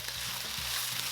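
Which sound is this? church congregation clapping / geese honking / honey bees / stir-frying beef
stir-frying beef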